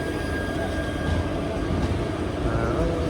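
Passenger train on the Bangalore to Tatanagar route at Chandragiri railway station, a steady close rumble of rolling wagons filling the whole stretch, with faint voices underneath.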